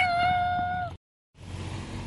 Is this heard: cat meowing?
yes